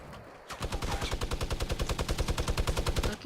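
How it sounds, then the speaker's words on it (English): Rapid automatic gunfire in a 50 v 50 video game battle, a dense steady burst of rhythmic shots that starts abruptly and runs loud for about three seconds. "They're just shooting at their teammate."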